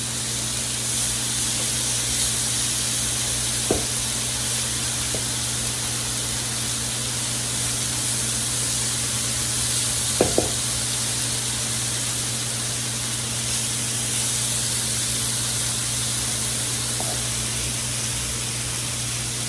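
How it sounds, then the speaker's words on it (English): Chicken and fajita vegetables sizzle on a hot griddle in a steady, dense hiss that stays even and loud throughout, with a couple of faint clicks along the way. "Now I'm going to add some of my fajita vegetables to the griddle."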